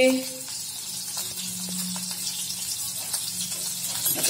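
Onion and green chili frying in a little mustard oil in a pan while being stirred, a steady bright hiss under a person talking.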